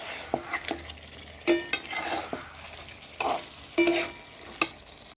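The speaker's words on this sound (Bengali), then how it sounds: "মাংসটা এরকমভাবে দশ মিনিট এখন কষবো" Chicken pieces stir-fried in a pan, a spatula scraping and clattering against the metal in uneven bursts over a steady low sizzle, close up and with no one talking.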